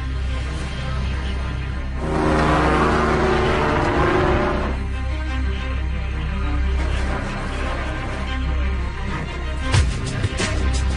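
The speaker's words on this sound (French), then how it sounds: "Ted et Bill, eux, refont le parcours de Bob en bateau" A boat travels across water with a steady engine drone, swelling louder for a few seconds as it passes close, then settling back into a continuous rumble.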